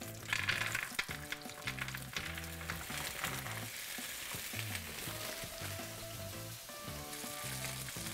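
Something browning in a hot pan for an Italian-style gnocchi sauce, with a steady close sizzle and light stirring sounds throughout.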